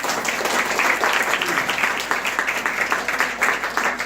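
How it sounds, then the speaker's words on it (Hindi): A Christian congregation claps for the Lord during a sermon, a sustained, dense round of applause at close range with a faint rhythmic pulse, continuing at an even level throughout. "ताली बजा सकते हैं प्रभु के लिए।"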